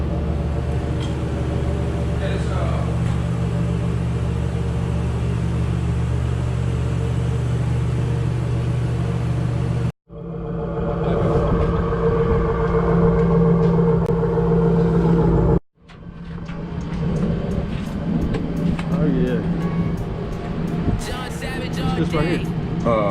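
A 351 Cleveland V8 in a G-body Malibu Classic, freshly rebuilt after a sticking thermostat, idles with a steady low rumble. The sound is interrupted by two abrupt cuts, and people talk over it.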